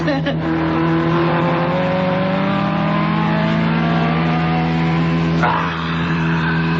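A race car in a radio drama effect roars steadily past with a rising, sustained engine whine and a brief swish near the end as it overtakes, loud and close with no talk over it.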